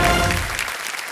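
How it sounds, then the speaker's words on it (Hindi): A studio audience on a television quiz show applauds in a dense, loud, continuous wash of clapping that fades slightly within about a second. "एक बार फिर तालियां बज जाएं हमारे कंटेस्टेंट्स की।"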